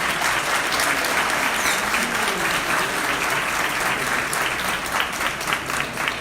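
An audience at a forum breaks into sustained applause to welcome a speaker, a dense, even patter of clapping that carries on steadily and thins a little toward the end, with no talking.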